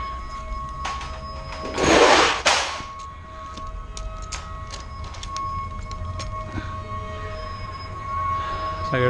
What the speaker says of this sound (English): It's like there's a train over there trying to stop.